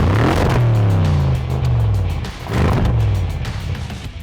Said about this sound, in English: to really give it that perfect V8 noise that it deserved from the factory